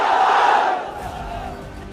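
A large political rally crowd roars a chanted slogan in unison, a loud, dense wall of voices that swells at first and then tapers into a sustained lower murmur.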